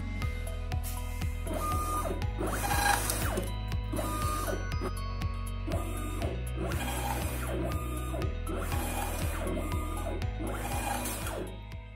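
A POS receipt printer prints data sent to it over an IP network, its motor buzzing in repeated short bursts with rhythmic feed clicks, steady and close, with no talking.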